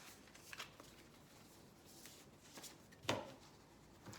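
Shamanic oracle cards are shuffled softly by hand in a quiet room, with light riffling brushes and a sharper snap near the end, faint and close.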